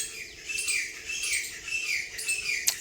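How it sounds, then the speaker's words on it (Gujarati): Birds chirp and tweet continuously in nearby trees, with bright, rapid, overlapping calls. "અવાજ આવે પંખીનો"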